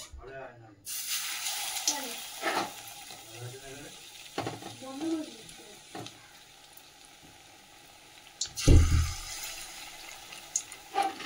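Mustard-spiced fish in gram flour batter fries in hot oil in a kadai, a soft crackling sizzle with a sharper burst of spattering near the end, while someone talks over it.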